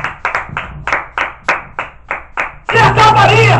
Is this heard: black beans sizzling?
no